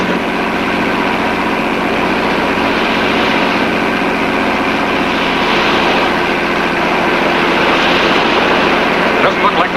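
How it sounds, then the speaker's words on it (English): A loud, steady engine drone runs throughout, with a constant rumbling hum and washing noise like a motorboat underway. "Hey, Cal, there's a boat up ahead."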